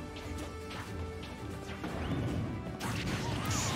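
A grenade blast in Super Smash Bros, used to launch a fighter higher, bursts out loud and crashing amid the busy game action, followed by further impacts and swooshes near the end.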